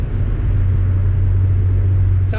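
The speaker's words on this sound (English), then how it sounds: "It's got like a nice clean V6 sound to it." A Saab 9-3 TurboX V6 drones steadily while driving, a loud, low exhaust rumble with a constant hum and no speech.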